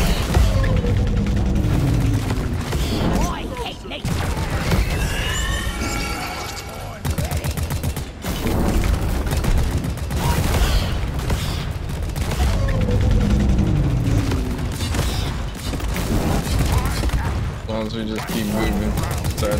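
Gunfire in the Deep Rock Galactic video game, dense loud rapid bursts with booms and mechanical clanks, nearly continuous across the clip.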